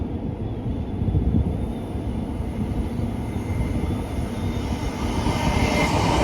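A Royal Mail train locomotive running alone without carriages passes with a steady, loud rumbling drone and faint high whine, continuous from a moderate distance.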